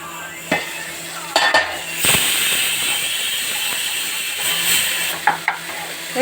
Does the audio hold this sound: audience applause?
no